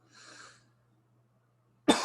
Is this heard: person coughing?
yes